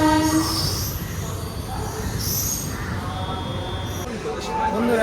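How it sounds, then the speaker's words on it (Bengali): The Sealdah–Rampurhat Maa Tara Express overtaking on an adjacent track, heard from inside another moving train: a loud, close, continuous roar of wheels and carriages with high squealing tones drifting through. "আমাদেরকে ওভারটেক মেরে চলে গেল শিয়ালদা রামপুরহাট মাতারা এক্সপ্রেস"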